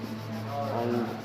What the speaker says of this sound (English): We have a guy in a corner that's working on a table and sanding it